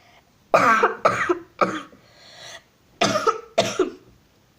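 Several sharp, harsh coughs in two quick bursts with a short pause between, close and loud, no talking.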